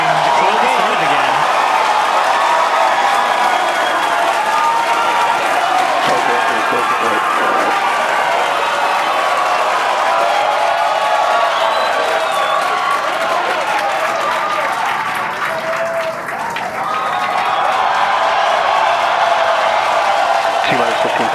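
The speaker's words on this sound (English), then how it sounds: "Cheering" A large crowd at a Starship launch viewing at Starbase, Texas cheers and applauds in a loud, continuous roar of clapping and shouting. The sound holds steady throughout with only a brief dip near the end.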